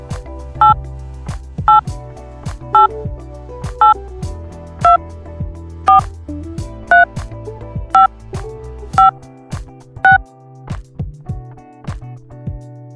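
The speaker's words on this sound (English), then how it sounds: "Let's dial this phone number together." Phone keypad tones dialing a vanity number, a steady sequence of about a dozen evenly spaced, clear beeps, loud and alone with no talk.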